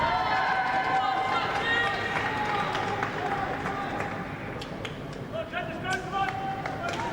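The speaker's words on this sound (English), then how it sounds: "there's applause all round" Spectators applaud at an under-14 schoolboys' inter-county football cup match between Kent and Sussex, a steady spread of clapping from a crowd under continuous commentary.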